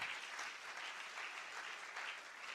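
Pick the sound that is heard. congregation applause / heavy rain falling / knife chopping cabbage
congregation applause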